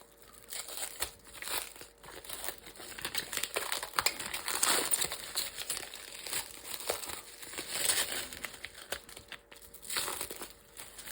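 Protective packaging around Ukrainian coins is unwrapped by hand, a close, irregular run of crinkling and crunching bursts with brief pauses, with no voices.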